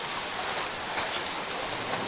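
Heavy rain pours down outdoors with hail falling, a dense steady hiss of drops hitting surfaces, loud and close, with a few sharper impacts and no talking.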